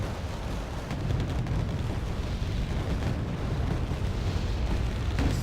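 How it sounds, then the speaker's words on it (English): Rumbling mortar fire in the Wargame: Red Dragon battle game, a dense, continuous wash of booms and low thuds with faint crackling bursts, steady in loudness and with no voices over it. "we've got the mortars firing, providing close range fire support"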